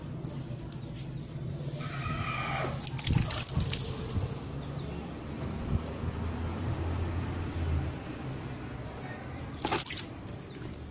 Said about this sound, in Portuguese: Então a gente começa a jogar água, ele começa a se acalmar.